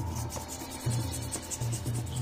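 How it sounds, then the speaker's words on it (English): A knife scrapes the skin of pork belly being prepared for red-braised pork, making repeated short, rasping strokes close to the microphone with no talking. "place on the space and use a knife to scrape"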